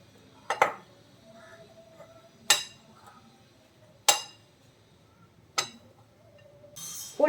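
A spoon clinks against a container four times at steady intervals while asafoetida and turmeric powder are stirred into a tender mango pickle, sharp metallic taps over a quiet background with light scraping between them.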